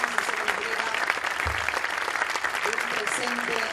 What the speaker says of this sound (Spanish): le brindamos un fuerte aplauso